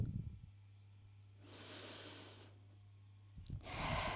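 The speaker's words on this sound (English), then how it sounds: "2 deep breaths there." Slow, deep breaths taken while resting in child's pose during a spine yoga session, soft drawn-out inhales and exhales, quiet and close, with a low steady hum underneath.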